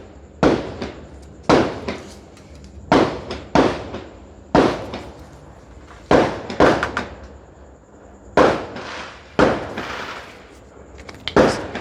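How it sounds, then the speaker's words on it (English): Fireworks bursting outdoors on an evening after New Year, heard from a home garage workshop: a dozen loud sharp booms and cracks at irregular intervals, each with a short rumbling echo tail, with no talking. "Oh, fireworks."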